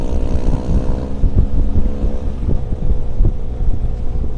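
A big bike motorcycle cruises at a steady, moderate pace, its engine giving a continuous low rumble with wind buffeting the microphone throughout and no other sounds on top.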